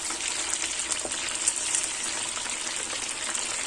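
Fish frying in oil over medium heat makes a steady, dense sizzle that holds evenly throughout with no pauses and no talk.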